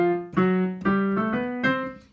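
Piano playing the well-known ending of a jazz standard, three accented harmonic chords struck in turn with ringing sustain between them, played alone and close.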